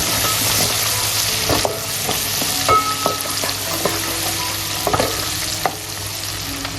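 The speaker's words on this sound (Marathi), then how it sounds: "आता ही जी हिरवी मिरची आहे ना बारीक चिरलेली हिला सुद्धा घालूया आणि हिला सुद्धा छान प्रकारे भाजूया तेलामध्ये तुपामध्ये" Finely chopped green chili sizzles steadily in hot oil and ghee for a spicy dhaba-style cashew masala curry, with scattered clicks and scrapes from stirring over the continuous frying hiss.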